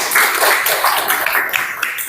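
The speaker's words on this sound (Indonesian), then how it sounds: "tepuk tangan untuk Fikri" Classroom applause for a student named Fikri, a loud, close burst of many small hands clapping together in a dense continuous patter that thins slightly toward the end.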